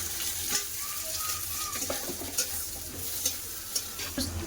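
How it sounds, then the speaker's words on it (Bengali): Potatoes sizzle steadily in a pan as a spoon stirs them, with sharp scrapes and clinks every second or so. "আগে আলু একটু ভেজে নেবো তারপরে ঝিঙা দেবো"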